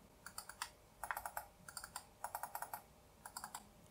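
Side buttons on a Tt eSPORTS Iris RGB gaming mouse are clicked in quick bursts of sharp, crisp clicks, several groups in a row, close but quiet with no talk.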